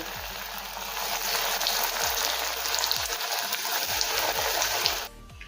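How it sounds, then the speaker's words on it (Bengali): Paneer pieces fry in hot oil with a steady, dense rain-like sizzle, close and constant, which cuts off abruptly near the end. "একইভাবে বাকি পনেরো পিসগুলো ভেজে নেব"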